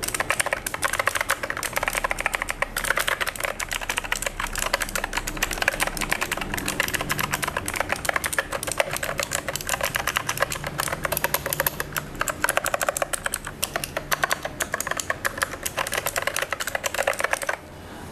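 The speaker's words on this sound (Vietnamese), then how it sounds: "các bạn thấy tiếng clicky của nó tuy rằng không phải là thuộc dạng quá to, tuy nhiên mình vẫn có thể nghe tiếng clicky của nó" Steady, rapid typing on a compact FreeWolf K9 one-handed mechanical gaming keyboard with clicky switches, a dense run of crisp close keystrokes heard alone without any talk throughout.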